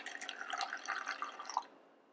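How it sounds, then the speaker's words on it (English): Water is poured into a cup at a craft table, a short soft trickling pour lasting under two seconds before it stops. "the next thing that we need to do is add water"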